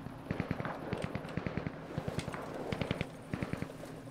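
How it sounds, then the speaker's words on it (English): Gunfire in the video game Cuisine Royale: rapid bursts of repeated shots in several short volleys, crisp and fairly close, with pauses between bursts and no talking. "Multiple gunshots."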